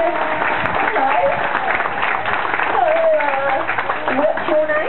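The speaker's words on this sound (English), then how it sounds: "Let's give them a nice round of applause" At a dolphin show in Coffs Harbour, an audience claps for girl volunteers, a steady spread of applause running underneath someone talking on a microphone.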